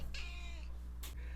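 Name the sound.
cat meowing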